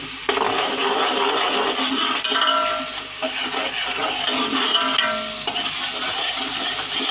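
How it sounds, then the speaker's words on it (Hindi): Steady sizzling of garlic frying in hot oil, with occasional stirring scrapes, close and fairly loud with no talking. "ये लहसुन हमारा ऑयल के अंदर हम भून रहे हैं"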